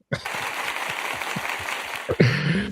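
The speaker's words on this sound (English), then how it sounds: "All right, I guess I'm gonna have to do the applause." A canned applause sound effect plays on a live stream, a steady wash of clapping with a faint rhythmic pulse, and a voice cuts in near the end.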